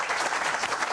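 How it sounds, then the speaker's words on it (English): A short burst of audience applause at a live golf equipment show, an even, dense patter of clapping with no voices. "I'll hold for applause"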